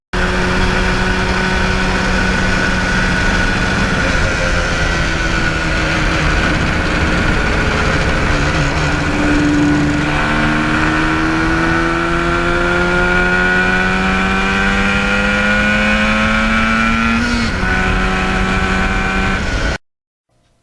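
A 1977 Yamaha RD400 two-stroke motorcycle runs at a steady, buzzy pace with several rises in pitch as it accelerates through gears, loud and continuous before cutting off abruptly near the end.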